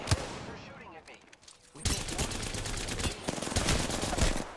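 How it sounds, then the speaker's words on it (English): Rapid automatic gunfire and overlapping shots from the Apex Legends battle royale video game, loud and dense. Bursts and fusillades come in quick succession, with brief speech underneath. "They're shooting at me."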